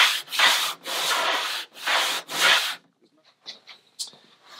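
Sanding by hand fairs the aft section of an International 2.4mR sailboat deck, with four loud, close rubbing strokes followed by quieter scraping and handling noises.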